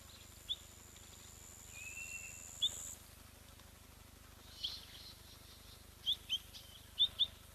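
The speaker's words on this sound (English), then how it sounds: "it's killing me that I can't identify these bird calls" Wild birds call intermittently at an African wildlife camera site, with short, high chirps scattered sparsely over a steady low outdoor hum, fairly faint and distant.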